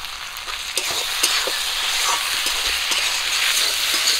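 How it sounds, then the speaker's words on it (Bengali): Mustard paste hits a pan of lightly fried prawns and spices, setting off a loud, continuous close sizzle with occasional scraping stirs of a spatula. "এরপর দিয়ে দিচ্ছি সর্ষে বাটা"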